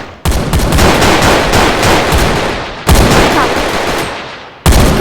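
Loud, rapid automatic gunfire from a Glock fitted with a switch in a video game, in three sustained bursts that each start abruptly and fade slightly before the next.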